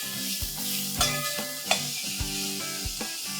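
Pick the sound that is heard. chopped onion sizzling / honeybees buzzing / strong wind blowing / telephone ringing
chopped onion sizzling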